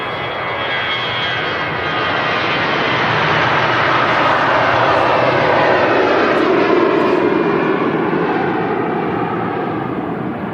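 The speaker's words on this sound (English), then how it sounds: "we've got this Jet2 A321 HLYB on the reg, heading off to Tenerife South Airport" A Jet2 Airbus A321 departs Manchester Airport for Tenerife South, its jet engines delivering a loud, sustained broadband roar that swells gradually and holds steady throughout, with no talking.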